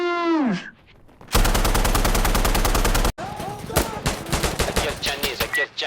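Rapid automatic gunfire in the video game Insurgency Sandstorm, loud sustained bursts of close shots followed by more scattered firing, with a brief voice sound at the start.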